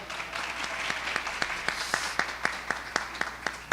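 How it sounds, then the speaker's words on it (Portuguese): A small podcast audience at a church-youth discussion applauds a guest, a modest scatter of clapping with a few sharp, distinct claps standing out in a fairly regular rhythm near the microphone. "Uma salva de palmas para ela."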